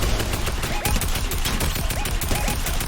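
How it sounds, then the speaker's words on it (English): Dense, loud automatic gunfire in a shooter video game, rapid overlapping bursts filling the whole stretch with a few distinct shot transients, under faint talk. "Getting shot at from somewhere else though."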